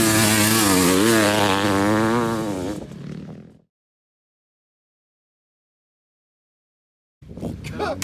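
A Honda CR 500 cc two-stroke motocross motorcycle engine revs loud and close for about three seconds with a rising and falling rasp, then cuts out into silence before a brief burst of noise returns at the end.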